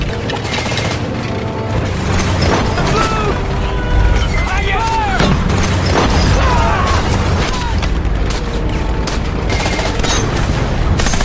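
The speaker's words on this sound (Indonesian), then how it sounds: "mereka langsung mengisi peluru mortar dan langsung diluncurkan ke arah musuh" A World War II battle sound effect of mortar shells being loaded and launched at a Japanese tank. Loud, dense booms and bursts of gunfire follow one another without letup, with voice-like tones mixed into the din.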